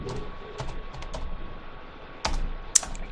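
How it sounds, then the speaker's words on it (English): Typing on a computer keyboard, with short clusters of light key clicks followed by a couple of sharper taps near the end, close and quiet, with no talking. "So I'm going to type in some stuff."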